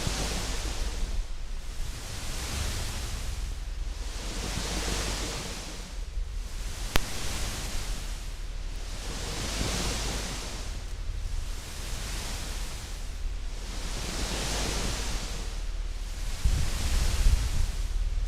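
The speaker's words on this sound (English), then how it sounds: "So that's tape hiss." Steady broadband tape hiss from the NOISES texture instrument, a soft continuous wash that swells and recedes in slow, even waves like surf, with one brief tick midway, no voices.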